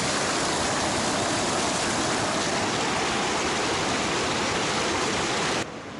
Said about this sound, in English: Let's have the taste of the streaming water